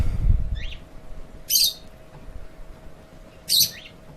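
Two short, sharp hiccups from a person, about two seconds apart, close and distinct over a quiet room with no talking.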